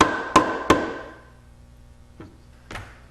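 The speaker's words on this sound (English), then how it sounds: "that one there is just a little tight, so I'm just gonna tap it in" Sharp wooden taps drive a wooden spline into a slightly tight joint, two close loud knocks followed later by two softer ones, with no talking.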